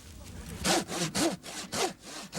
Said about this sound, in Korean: 세훈이는 여기서 처음 톱질을 해봤다.